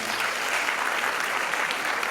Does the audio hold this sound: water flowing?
no